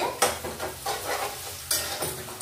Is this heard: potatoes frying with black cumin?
yes